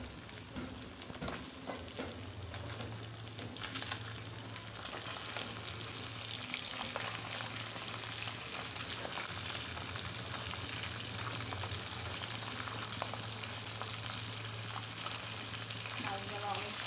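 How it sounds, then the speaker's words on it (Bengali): Fish frying in a pan, first batch, with a steady close sizzle and crackle holding throughout and occasional stirring or scraping over a low hum. "আমি এখন প্রথম ব্যাচ ভেজে নিচ্ছি।"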